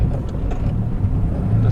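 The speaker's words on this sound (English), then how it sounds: "The car sounds pretty good." An Integra DC2 with a B-series engine swap idles with a low, steady, moderately loud exhaust burble, heard up close for under two seconds.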